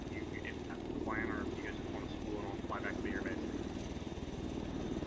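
Helicopter rotor and engine drone in the video game Arma 3, a continuous steady roar with a chirpy warbling tone rising over it, while people talk over the top.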